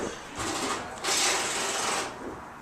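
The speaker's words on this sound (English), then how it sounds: "the vapor runs through the rotary coil vacuum pumps" Rotary coil vacuum pumps in an environmental remediation system run with a steady mechanical whirring hum, swelling louder in two surges before settling back to a constant drone.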